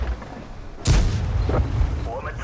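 A tank gun fires in World of Tanks with the Chinese light tanks WZ-132 and WZ-131, one sharp heavy boom with a rumbling tail, heard under someone talking.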